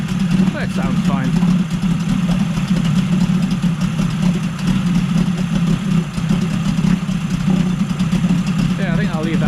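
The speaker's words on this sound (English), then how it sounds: "quite a smoky engine, but it seems to run fine" A Yamaha 20A two-stroke outboard engine idles steadily and loudly close by, a continuous low rumbling drone, smoky but running fine, with a voice speaking over it at moments.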